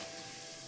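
Masala spices sautéing in a pan for a prawn, zucchini and potato curry, a brief, steady sizzling hiss with no break, quiet and close.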